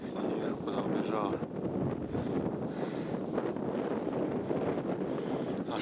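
Strong wind buffets the microphone outdoors during a Siberian roe deer hunt, a constant loud rushing roar filling the whole stretch with no break.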